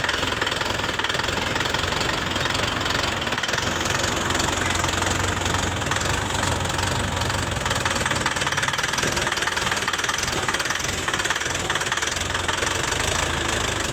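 A small tractor engine runs steadily throughout with a knocking, chugging rhythm and a broad rumbling hum, close by and continuous, with no talking.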